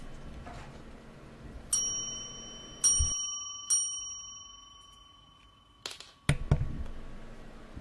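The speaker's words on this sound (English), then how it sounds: "If they do the bell pressing behavior, then they receive a treat stimulus." Cats press a tabletop service bell for treats, giving three bright rings that decay slowly, then a quieter metallic clack and a final louder clunk.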